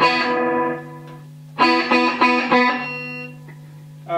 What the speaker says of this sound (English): Got the guitar plugged directly into this channel with the bright switch off